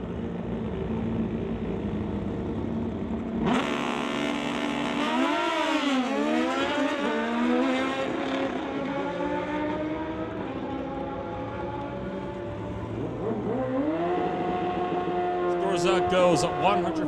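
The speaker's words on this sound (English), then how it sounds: "Gonna be up against Wild Bill's Wild Racing Kawasaki" A Suzuki and a Kawasaki drag racing motorcycle make a run: loud engine wails climb and fall through rapid shifts over a roaring backdrop, then taper away and return as another rising whine. An announcer talks throughout.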